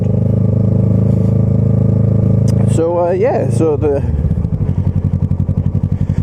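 Kawasaki ER6f Ninja 650 exhaust runs as a steady, close, loud drone, with a throttle blip and engine thuds toward the end, while a rider speaks over it.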